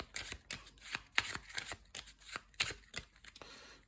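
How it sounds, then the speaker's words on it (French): Skill cards from the Tiny Epic Defenders Dark War board game being shuffled by hand: quick, close riffles and snapping card sounds in irregular bursts, no speech. "les cartes compétences que je vais bien mélanger"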